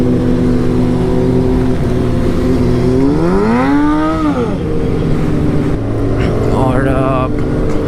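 A motorcycle engine idles steadily, then the throttle is blipped into a rising and falling rev, followed by a shorter second blip, loud and close.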